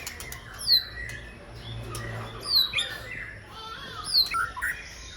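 A recently molted white-rumped shama (murai batu) kept out in the early morning dew gives three bursts of sharp, bright whistled chirps and squawks, spaced a couple of seconds apart over a quiet, low background hum.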